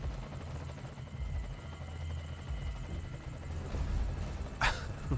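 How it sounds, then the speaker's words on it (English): A helicopter arrives at a landing zone in Metal Gear Solid V: Ground Zeroes, its rotor thumping in a steady low pulse with a hovering engine hum, fairly loud and continuous, with a brief sharp burst near the end. "This is Morpho, arriving shortly at LZ"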